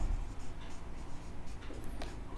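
Chalk or marker writing on a board during a Class 10 maths lesson on linear equations, a steady continuous scratching that runs unbroken for a couple of seconds with no talk over it.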